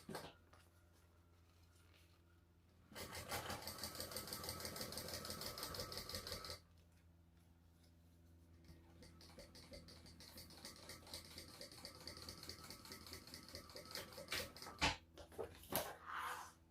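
A sewing machine top stitches across a bag lining seam with the seams pushed toward the flap of a travel pouch. It runs in a steady burst of a few seconds, goes quiet, then resumes in uneven, faster spurts.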